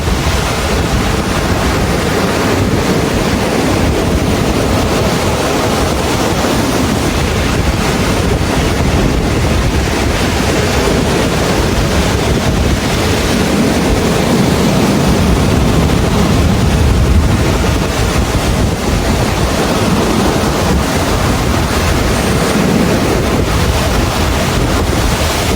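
Surf rolling onto a beach in Bali, a constant loud wash of breaking waves mixed with heavy wind buffeting the microphone, with no voices.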